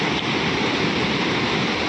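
Floodwater rushes through a rain-swollen river in a steady, broad roar, loud and continuous with no pauses and no voices.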